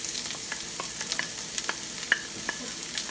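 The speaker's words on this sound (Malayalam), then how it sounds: "അപ്പോൾ നമുക്ക് സവാളയൊന്ന് നന്നായിട്ട് വഴറ്റിയെടുക്കാം." Finely chopped medium onion frying in oil for a green peas curry, a steady close sizzle broken by soft scraping stirs of a spoon against the pan every half second or so.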